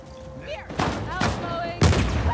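Loud bursts of gunfire from Uncharted 4 multiplayer crack out in three clustered volleys, the last one heaviest, with a voice talking between the shots.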